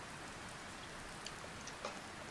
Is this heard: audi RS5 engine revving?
no